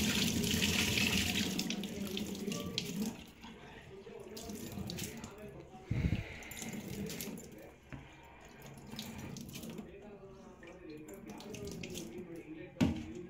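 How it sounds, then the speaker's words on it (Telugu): Running tap water while rice is washed for paneer dum biryani, a continuous splashing stream into a sink with some clinks and a pause around the middle, fairly close. "సో రైస్ని అయితే వాష్ చేసుకొని వేసామన్నమాట."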